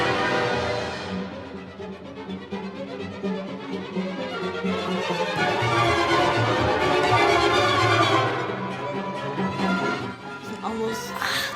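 Orchestral music from the Firebird ballet, a dense and swelling passage with full strings and winds that builds in energy, moderately loud and without voices.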